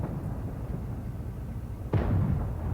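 A single tank cannon shot from World of Tanks Blitz bursts out about two seconds in. It is a sharp, booming blast with a rumbling tail, sitting over a steady low engine and battle drone.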